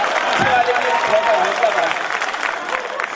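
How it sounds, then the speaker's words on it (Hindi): An audience at a poetry recital claps in a sustained, fairly loud burst of many hands, with a voice faintly audible underneath. "जोरदार ताली बजा के मुझे इजाजत दीजिए।"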